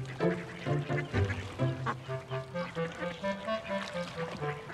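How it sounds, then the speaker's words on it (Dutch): A cartoon duck with a red bill quacks repeatedly, a series of short, nasal, honking calls in an uneven rhythm, close and clear over light background sound. "Die eend heeft een rode snavel."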